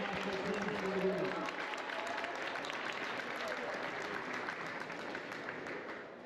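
An audience at a college sports celebration applauds for a century of college sports and fifty years of national championships, a dense, sustained wash of clapping that fades slightly toward the end, with a voice faintly audible early on.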